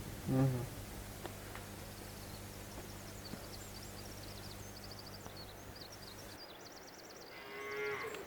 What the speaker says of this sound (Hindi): ये घर के साथ ही जानवरों का बाड़ा है, जहाँ पे ये माल मवेशी बांधे जाते हैं।